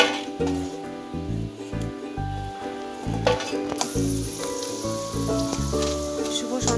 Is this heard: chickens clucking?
no